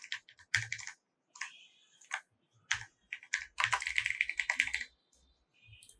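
Typing on a computer keyboard while entering an email address, with irregular bursts of close, crisp key clicks separated by short pauses and no voices.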